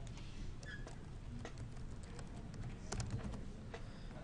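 Keystrokes on a computer keyboard while entering text with a type tool, irregular clicks in short bursts over a steady low background hum, fairly quiet and close, with no one talking.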